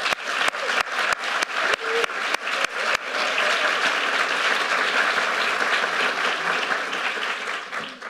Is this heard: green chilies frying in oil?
no